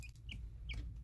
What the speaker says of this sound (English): happy little cheeps from our hungry little chickens